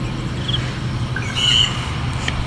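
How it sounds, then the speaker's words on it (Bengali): A few short, faint bird chirps sound outdoors in a leafy city garden with okra and touch-me-not plants, scattered over a steady low background hum with no talking. "পাখির কিচিমিচি শব্দ"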